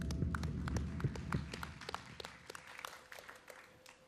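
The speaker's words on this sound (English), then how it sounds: "I think it deserves a round of applause." Audience applause at the Bali Process gathering in Colombo, Sri Lanka, celebrating the Colombo Commitment 2024: dense clapping fills the first few seconds, then thins into scattered claps that fade toward the end, with no voices.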